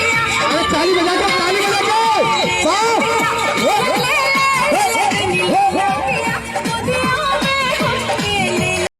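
At a live Bhojpuri nach stage show, a crowd cheers and shouts loudly under amplified singing and music, the noise sustained throughout at close range.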